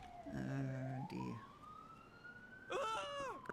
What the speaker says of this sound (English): Oh, well, the sirens.